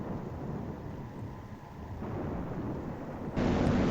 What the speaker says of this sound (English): It's always raining, too.